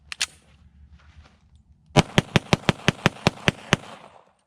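A Tisas 1911 Night Stalker 10mm pistol firing Rainier Ballistics 180 grain hollow points: two sharp shots, a pause, then nine loud rapid reports in a quick, even string.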